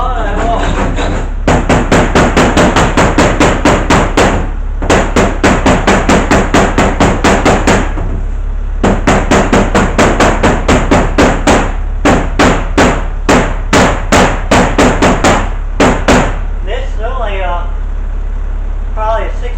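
A 16 to 18 ounce hammer taps rust off bus metal in quick, evenly spaced sharp strikes grouped in long bursts with short pauses between them, close and loud, and someone speaks briefly at the end.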